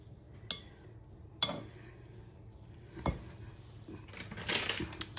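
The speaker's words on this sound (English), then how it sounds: "Just stir those in." Ingredients cut into quarters are stirred into a Chinese chicken salad, with a few sharp clinks of a utensil against the bowl, spaced out over a quiet kitchen background.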